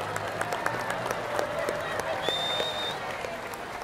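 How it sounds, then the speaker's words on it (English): Audience applauding at a sea lion show at the St. Louis Zoo, a steady patter of many hands clapping with a few voices mixed in. "Give him a big clap, girls."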